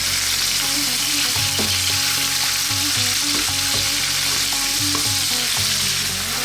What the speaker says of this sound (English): Okay, we're going to stir this in. We're going to cook this for about 4 minutes.